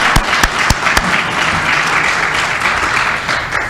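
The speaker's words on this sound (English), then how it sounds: "So, a little round of applause for our county commission." An audience at a Tiger Bay gathering in Pinellas County claps for the county commission, dense steady applause close by with a few sharper claps standing out at the start.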